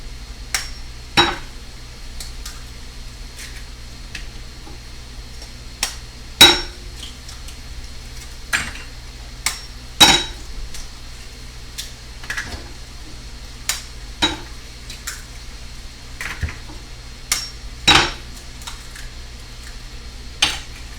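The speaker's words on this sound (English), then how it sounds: "I'm going to break 5 eggs at the side of it." Eggs cracked one after another against the edge of a grill, with sharp, isolated taps spaced a second or two apart over a low, steady sizzle, and no talking.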